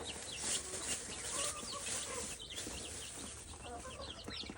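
Rhode Island Red chicks peep and cheep busily while being fed on a rural farm, a dense chorus of high, overlapping chirps close by with soft rustling underneath.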